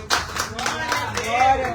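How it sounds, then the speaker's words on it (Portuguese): A church congregation claps during a worship service, with rhythmic applause mixed under raised voices and singing. "aplauda aí, Jesus"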